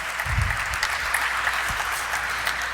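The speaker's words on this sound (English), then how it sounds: "That calls for an applause, ladies and gentlemen." Audience applause at the stock exchange listing ceremony of Global Health Limited, a steady patter of many hands clapping at moderate volume throughout, with a few sharper claps standing out.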